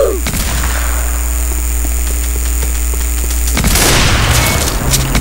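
Gunfire in the Roblox shooter Weaponry during a sniping match: a loud, continuous burst of booming game shots and impacts with a steady hum underneath, swelling louder near the end.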